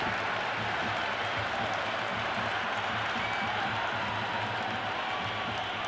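Crowd in the Cricket 26 video game during an India vs Pakistan T20 match, a dense, steady roar of applause and cheering, broad and continuous throughout, with no voices standing out.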